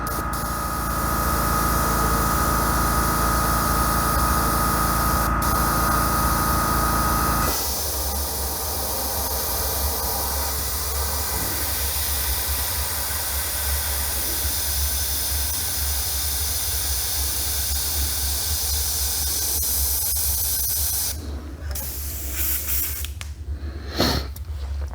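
Airbrush spraying paint with the air left constantly on: a steady, close hiss throughout, its tone shifting as paint flow starts and stops, ending with a few short sputters and gaps.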